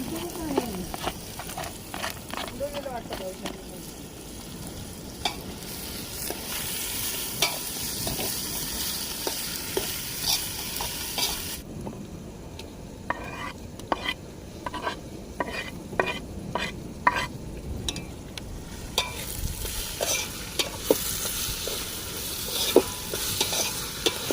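Chopped onion and garlic frying in a pan outdoors at a seaside night camp, a continuous loud sizzle broken by repeated quick scraping stirs and utensil clicks.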